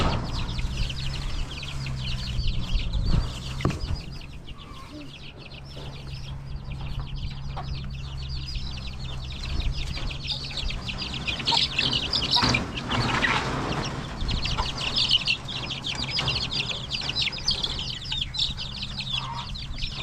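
Chickens cluck and chirp in a steady stream of short calls, fairly close by, over a constant low background hum, with no one talking.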